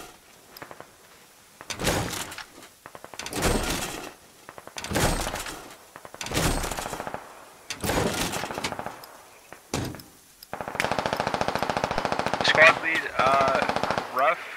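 Automatic gunfire from the Squad video game, loud repeated bursts of machine-gun fire roughly every second and a half, then a longer, denser stretch of shooting, with voices shouting in between.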